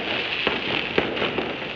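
Firecrackers and fireworks going off on the last day of Chinese New Year, a steady crackling wash with a few sharper bangs standing out, moderately distant and continuous.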